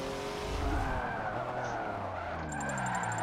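Tires skid and squeal as a BMW is drifted in the racing game Forza 7, a steady loud screech with engine drone underneath, continuous through the clip, with no talking.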